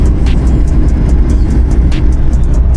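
Heavy road traffic on a northbound highway toward Pampanga forms a dense, constant rumble, with faint repeated ticks and hisses over it and no talking.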